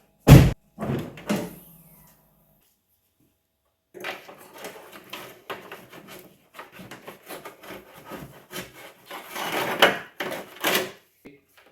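Hood of a BMW E46 wagon being opened: a loud near latch clunk, a couple of follow-up knocks, then a pause and a stretch of rubbing and shuffling handling noises close by.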